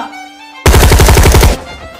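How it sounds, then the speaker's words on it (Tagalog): A loud, close burst of rapid automatic gunfire rattles for about a second, then cuts off, with no talking. "May narinig silang putok ng baril."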